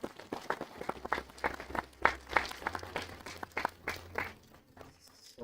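An audience claps in a burst of applause at an awards session of a regional prevention, care and treatment best-practices conference. Quick, uneven hand claps rise and fall across the room without a spoken voice.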